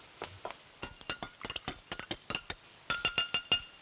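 A spoon clinks rapidly against a cup while stirring tea, a quick run of bright, sharp taps that is quiet and close, with no talk over it.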